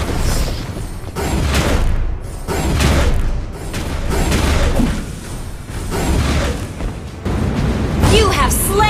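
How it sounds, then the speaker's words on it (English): A turret is destroyed in a MOBA video game, booming explosions and mechanical bursts rolling on nearly continuously and loudly, with an announcer voice speaking over the action. "Destroyed a turret!"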